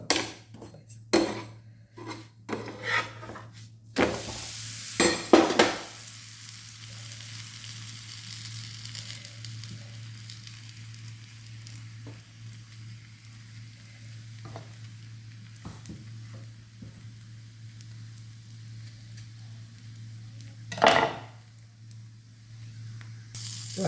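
Sweet potato paratha cooks in melted butter on a pan, giving a steady soft sizzle with a few louder scrapes and clatters of a utensil against the pan, and a low constant hum underneath.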